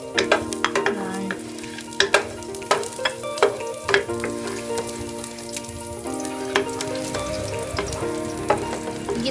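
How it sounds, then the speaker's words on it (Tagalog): Garlic sautés in a pan for a Bisaya halang-halang dish, with a strong steady sizzle and frequent sharp clinks and scrapes of a utensil stirring, close and prominent, without speech. "igigisa lang natin yung ating bawang"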